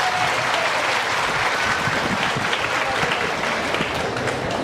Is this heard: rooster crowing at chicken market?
no